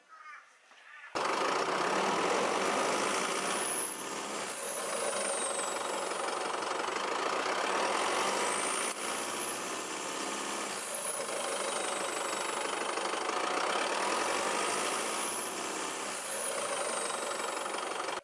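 A diesel Isuzu Mu-X engine fitted with hard intercooler pipes runs steadily after a brief quiet start, a loud, continuous mechanical hum and rumble with slight surges over about seventeen seconds.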